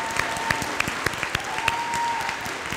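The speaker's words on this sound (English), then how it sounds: "Let's give these guys a round of applause." Applause from an audience at a middle school 8th grade recognition ceremony: steady, dense clapping from many hands in an indoor hall, close and moderately loud, with a few sharper claps standing out.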